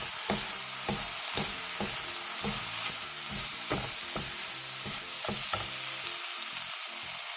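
Dried shrimp stir-fried quickly in bubbling seasoning sauce, a continuous close sizzle with rhythmic spatula strokes scraping the pan, no voices.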